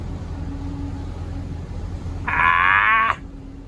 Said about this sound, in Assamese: ভাইটিহঁতৰ গাড়ী গ'ল, এইটো গাড়ী